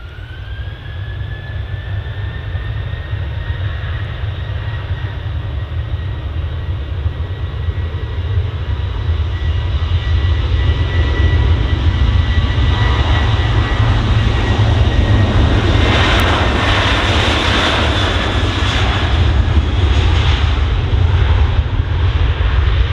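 A Ryanair airliner departing, its jet engines building into a loud, steady roar that swells and holds for the whole stretch, heard alone without voices.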